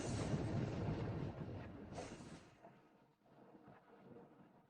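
Booming rumble of a thunder curse spell, a loud broadband crash that swells for over two seconds, then decays into a fainter rolling tail.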